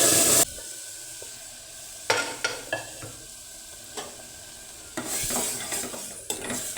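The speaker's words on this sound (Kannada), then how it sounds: "ನಂತರ ನಾನಿಲ್ಲಿ ಸ್ಮ್ಯಾಶ್ ಮಾಡಿ ಇಟ್ಕೊಂಡಿರುವಂಥ ಬೇಳೆನ ಹಾಕ್ಕೊಳ್ತಾ ಇದ್ದೀನಿ." Mashed lentils go into a pan of frying spices for sambar, giving a soft sizzle with scattered scrapes and taps of a spoon stirring against the pan. No voices.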